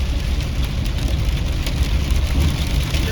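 Rain and hail drum on a camper van in Dordogne: a dense, steady, loud patter of drops close on the roof, continuous without pause.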